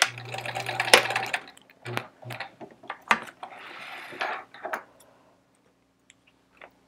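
Sewing machine stitching straight seams on a quilt block, heard in short bursts of rapid mechanical whirring with pauses between runs, fairly close and moderately loud.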